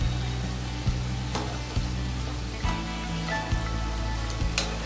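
Balushahi fry in hot oil with a steady, close sizzle and soft bubbling, broken now and then by small pops and light stirring sounds.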